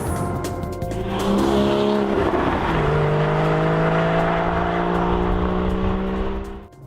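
A 2015 Porsche Boxster's flat-six engine wails while driving, rising and falling in loud, close sweeps as it climbs through the revs, with a brief shift dip before pulling again.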